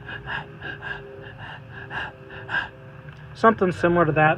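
A voice imitates rapid, shallow breathing as a sign of hypovolemic shock, a quick, even series of short huffing breaths, close and clear, followed by a brief spoken comment.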